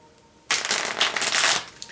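A brisk riffle of tarot cards being shuffled close up, starting abruptly after a brief quiet and lasting about a second before trailing off.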